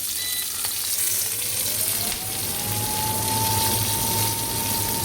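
Panch phoron spices sizzle in a little oil on an induction cooker, a steady bright frying hiss held loud and close for the whole stretch, with a faint rising electronic whine from the cooker creeping in.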